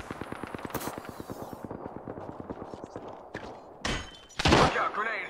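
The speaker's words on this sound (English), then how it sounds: "Shot fired, and they're hitting me" Rapid video-game automatic gunfire rattles in a steady burst for about two seconds, followed by heavier thuds and blasts, with a voice speaking over the later part.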